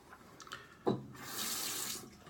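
Tap water runs steadily into a sink to wet a shaving lather, starting with a short splash and then a continuous, fairly close hiss of flowing water with no voices.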